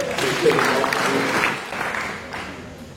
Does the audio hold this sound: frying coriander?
no